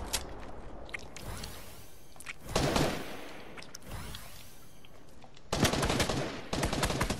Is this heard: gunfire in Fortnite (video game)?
yes